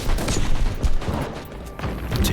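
Gunfire in Warhammer 40,000: Inquisitor - Martyr, a few loud booming shots in quick bursts amid combat noise, close and punchy over about two seconds, without speech.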